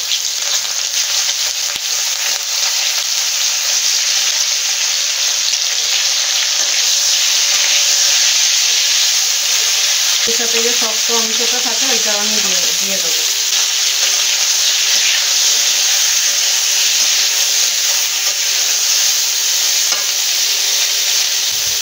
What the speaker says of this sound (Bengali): মাছ ভাজার তেলেই ফুলকপিগুলো ভেজে নেব।